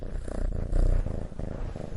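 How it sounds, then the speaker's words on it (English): A cat purrs close up in a low, steady rumbling rhythm of soft pulses, quiet and alone. "Maybe a cat purring."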